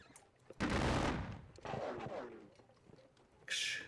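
Musket volleys exchanged in the WDS Valmy video game: a long crackling burst of massed fire, then a second ragged volley, and a sharper distant crack near the end, with no talk.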